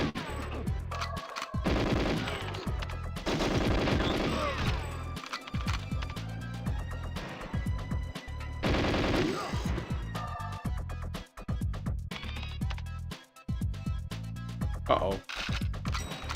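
Video game gunfire in GoldenEye, with sharp, rapid bursts of shots and clattering automatic fire in dense volleys across the stretch, loud and near, mixed with someone talking over it.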